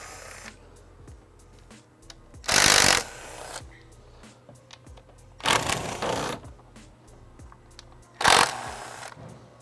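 Three loud bursts of ratcheting from a socket wrench loosening the 8mm bolts on the intake manifold of a 2015-2017 Mustang GT, each lasting about a second, separated by quieter faint clicks and handling noise, no talking.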